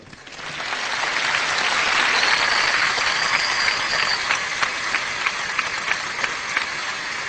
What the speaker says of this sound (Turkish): Büyük bir alkış lütfen.